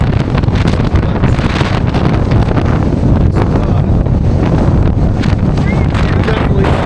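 Strong wind blows outdoors on a stormy Christmas Eve, battering the microphone with a loud, constant roaring rumble and gusty buffeting throughout.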